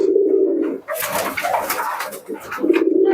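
Pigeons at a pigeon shop coo in deep, throaty bursts at the start and end, with a jumble of clatter and voices in between, all close by.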